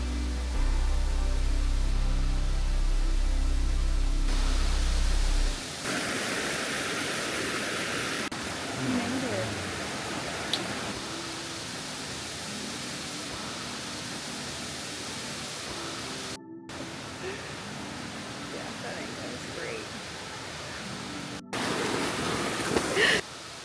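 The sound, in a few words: large waterfall in Maui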